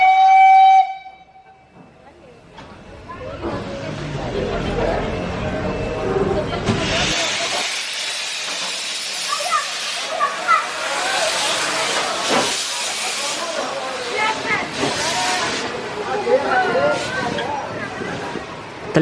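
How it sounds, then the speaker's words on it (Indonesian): The Jaladara steam locomotive at Solo Kota station gives a short clear whistle blast, then releases a long loud hiss of steam with chuffing and bursts, close by, as someone talks over it. "Terlihat ya, lokomotif uapnya terpisah dari rangkaian untuk berpindah posisi."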